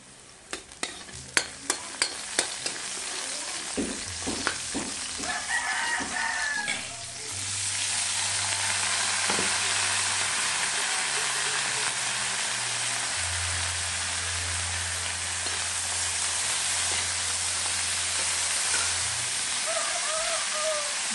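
String beans and bitter gourd stir-fried in a pan: sharp clanks of a utensil against the pan give way to a steady, loud sizzle that runs continuously, with faint low voices underneath.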